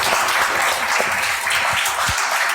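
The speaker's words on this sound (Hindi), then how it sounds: "चलिए तालियों के साथ स्वागत करते हैं" Steady, full applause from an audience welcoming a guest onto a stage at a Hindi-language talk event, a continuous loud wash of clapping with a few lower thumps and no speech over it.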